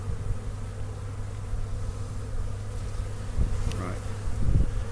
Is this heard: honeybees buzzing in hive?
yes